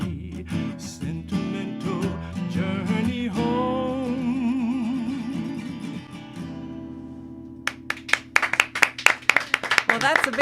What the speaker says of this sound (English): that's a big round of applause.